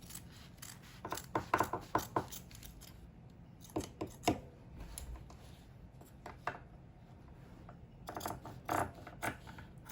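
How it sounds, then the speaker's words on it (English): Scissors trimming excess fabric from a sewn seam on an aso-oke kaftan, quick bursts of crisp snips in close clusters separated by brief pauses, fairly quiet and with no talking. "the next thing I'm going to do is to trim out the excess"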